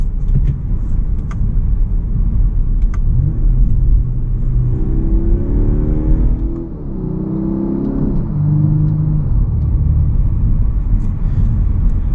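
A 2023 Audi A5 with a dual-clutch gearbox drives and accelerates, its engine rumble rising and falling through gear shifts with exhaust crackles and pops, loud and close throughout.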